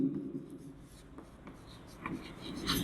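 Chalk or marker writing on a board during a Class 10 science lesson on genetics, short scratchy strokes in uneven bursts over a steady room hum, with little talk.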